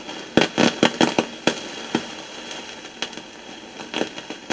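A faulty part in a Hammarlund HQ-140-X radio gives off loud, close crackling, a rapid burst of irregular pops and bangs at first, then sparser crackles with quieter static between them.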